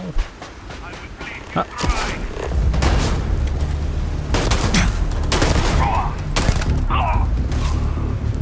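Gunfire strikes the player in the space game Starfield, a dense run of loud shots and impacts over a low rumble that keeps up for several seconds, with a voice talking over it.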